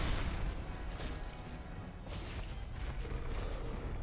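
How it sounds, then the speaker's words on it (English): A muffled explosion in Dark Souls lands as a few deep, rumbling booms with broad bursts of noise, followed by a lingering low rumble that fades slightly but carries on. "Okay, there's your explosion."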